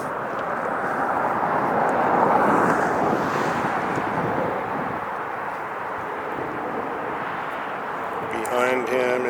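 A Lufthansa Boeing 747 approaches to land at LAX, a broad jet roar building and then fading, heavily buffeted by wind against the microphone. A voice speaks briefly over the noise.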